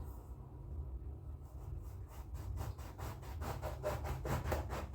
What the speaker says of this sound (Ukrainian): що я розрізаю це помило